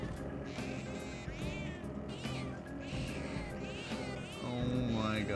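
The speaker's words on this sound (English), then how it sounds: "there's a button to hear him meow" Cat meows from a button in the Persona 5 Royal video game, sounding again and again in quick succession, close and clear over constant game background music.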